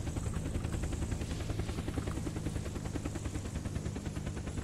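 Helicopter in the video game Unturned with a Resident Evil 6 vehicle mod, its rotor chopping in a steady, fast rapid pulse over a constant engine drone, loud and close throughout without talk.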